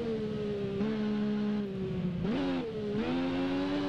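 A Triumph Daytona 675 three-cylinder motorcycle in the racing game Ride keeps a loud, steady engine drone, then dips and rises again as the throttle reopens out of a corner.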